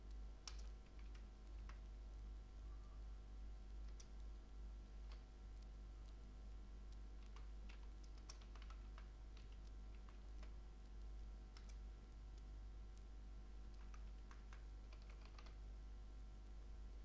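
Faint, scattered keystrokes on a computer keyboard typing a command, sparse taps over a steady low hum that runs throughout, with no talking.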